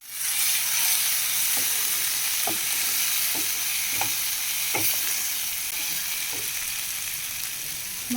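Spice masala with turmeric fries in a pan for a Bengali katla fish curry, a steady sizzle and hiss underneath a series of soft stirring scrapes spaced every second or so.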